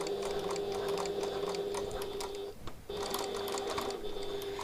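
A sewing machine stitches along the basting line of the piping on a piped pocket tote, running steadily close by, pausing briefly midway before resuming its even hum.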